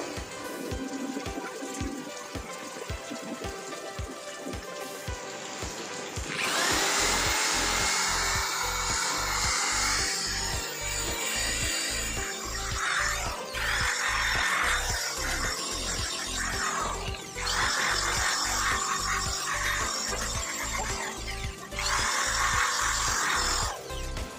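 An H&L HL8252 electric polisher whirs as it works a yellow helmet, a continuous motor whine broken by regular rhythmic pulses, with stretches where the pitch and load rise as the pad presses harder.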